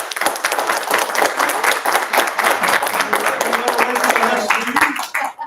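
A community planning group meeting audience claps for an honoree, a dense burst of hand claps close and steady for several seconds, tapering at the end with some voices mixed in.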